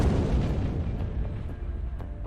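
A parcel bomb explosion in Patnagarh: a heavy, rumbling blast with a sustained low roar that slowly decays, loud and close, with no voices.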